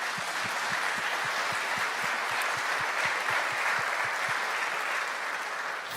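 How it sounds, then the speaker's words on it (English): Conference audience at an Angular developer event in Berlin applauding, steady dense clapping with crisp individual claps throughout, no voices on top. "Round of applause, please."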